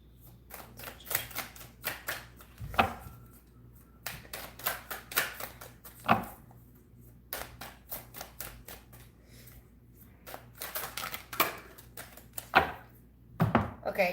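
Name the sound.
tarot cards being shuffled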